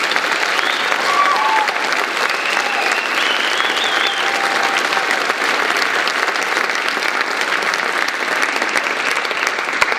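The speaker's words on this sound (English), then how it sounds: "How about one more applause for the seniors?" A high school band concert audience gives sustained, loud applause for the graduating seniors, a thick continuous roar of clapping from a large crowd that holds steady for the whole stretch.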